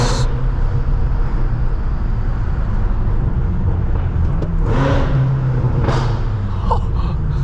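A tuned 800-horsepower BMW M6 engine rumbles loud and steady under a roof, with deep low-end drone and a couple of brief rising revs standing out over the constant roar.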